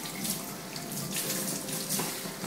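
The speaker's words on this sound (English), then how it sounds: "make sure the water's not too hot. Nice little shower." A steady, close shower stream of lukewarm water pours and splashes as a dog is wetted down through its fur during a bath, a continuous rushing hiss with slight surges and no voices.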